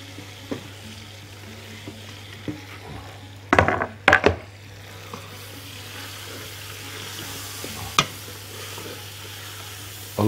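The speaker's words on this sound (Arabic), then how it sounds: "بنزل بالبصل المكعبات ده" Diced onions hit a pan of sizzling meat for kabsa, a steady close frying hiss broken by a few sharp clatters and scraping stirs of the spoon, with no talking over it.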